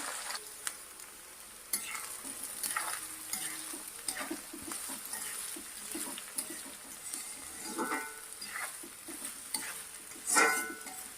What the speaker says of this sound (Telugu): ముందే కట్ చేసి పెట్టుకున్నాం కదా ఉల్లిపాయ ముక్కలు అవి కూడా వేస్తున్నానండి